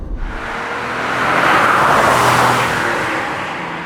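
A 1991 Honda NSX supercar driven hard, its engine note swelling loud and close as it accelerates, then easing slightly as it carries on, with no talk over it.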